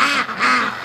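Two loud, nasal duck quacks close by, one right after the other.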